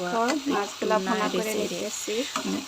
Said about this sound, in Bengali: এখন এই যে মাছটাও আমি এখন দিয়ে দেবো এত মজা লাগে মাছ দিয়ে তারপরে অনেক সারা করে উল্টে পাল্টে আমি ভাজা করে নেব